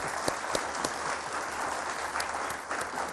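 An audience at an iftar-time studio broadcast claps for Bilal Qutub: dense, steady applause that fills the whole stretch at an even, fairly loud level with a few sharper claps standing out.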